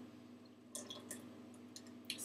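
Thick muffin batter poured into a measuring jug, a few soft wet plops and drips over a steady low room hum, close and quiet.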